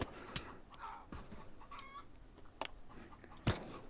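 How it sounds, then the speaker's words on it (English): A chicken in the Pavlov VR shooter game clucks in short bursts between sharp impact sounds, set against a busy, noisy game background. "Shut up chicken."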